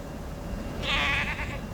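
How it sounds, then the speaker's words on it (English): A goat on a trek with pack goats lets out one wavering bleat at middle distance, rising briefly over a quiet outdoor background. "One of the goats is over there."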